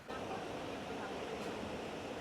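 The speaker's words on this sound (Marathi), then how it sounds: "किती छान छान आहे ना पूर्ण धबधबा आहे" The waterfall at Baneshwar temple near Pune makes a steady, close rushing roar of falling water that fills the whole moment without a break.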